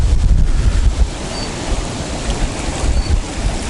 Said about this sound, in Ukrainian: Дуже сильний боковий вітер.